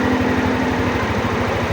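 A Yamaha NMAX motorcycle engine idles close by with a steady, rapid low putter that holds even and unbroken throughout, with no voices.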